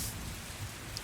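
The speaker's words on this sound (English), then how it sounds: "It's pouring rain" Heavy pouring rain in a city scene, a dense steady hiss of falling water with no break, moderately faint and heard alone without voices.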